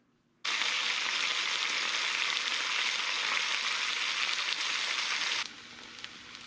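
Three slices of bacon with three eggs frying in a pan, a loud, dense, even sizzle that starts abruptly, holds steady for about five seconds, then drops to a quieter hiss.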